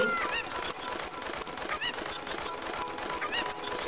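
Chicken squawking from the Zelda Ocarina of Time hack game, a run of loud, repeated honking clucks with bursts over a busy game background and no talking.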